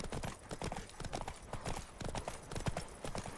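Horse hooves canter in The Witcher 3: Wild Hunt, a steady, rhythmic clip-clop close up and fairly loud, with a brief neigh in the mix.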